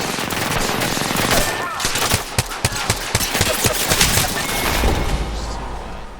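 Rapid automatic gunfire and scattered single shots crack and rattle through a loud, dense video game firefight, with a voice speaking briefly over the shooting.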